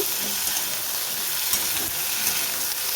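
Potatoes frying with onion in a pan, a steady close sizzle and hiss running continuously with faint scraping of stirring, no voices.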